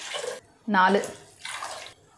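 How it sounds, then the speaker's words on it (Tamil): Four glasses of water are poured one after another into a pot for mutton biryani, each short splashing pour close by between a voice counting aloud. "இப்போ நான் 4 கிளாஸ் தண்ணி ஊற்ற போகிறேன்."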